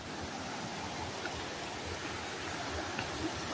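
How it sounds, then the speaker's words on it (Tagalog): A stream near Canding Falls in San Clemente gives off a steady, soft, even rush of flowing water with no voices over it. "Yung tunog ng agos ng tubig."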